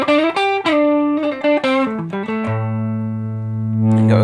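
Electric guitar on its neck single-coil pickup, driven through an Xotic SL Drive overdrive pedal, plays a run of clear sustained notes, then settles into one long ringing chord that swells near the end; no talking.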